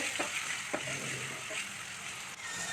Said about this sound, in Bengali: পেঁয়াজটা ফ্রাই করে নেব এবার দিয়ে দিব রসুন বাটা আদা বাটা সবগুলো মশলা একসাথে ফ্রাই করে নেব